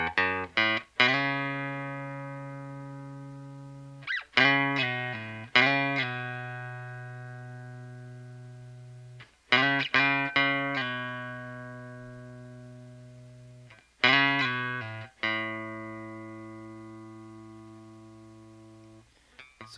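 Clean electric guitar plays a slow intro lick, bent and slid single notes starting from the open low E in three sustained phrases with long ringing decays, alone and close.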